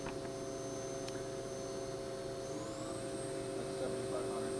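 A CAMPRO vertical machining center spindle speeds up, a faint steady whine with tonal hum lines and a tone that rises partway through, quiet beneath the room noise.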